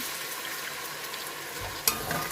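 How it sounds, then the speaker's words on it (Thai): Sweet and sour sauce with tomato ketchup is stir-fried in a pan, giving a steady close sizzle with a brief scrape and a sharp clack of a utensil near the end. "ใส่ซอสมะเขือเทศลงไปค่ะ ก็ผัดต่อให้เข้ากันดีนะคะ"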